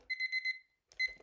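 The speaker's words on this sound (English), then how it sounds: "I'm putting the timer on." A timer alarm beeps in quick pulses, four short high tones in a row, then a pause before another burst begins. The beeps are clear and fairly quiet against silence.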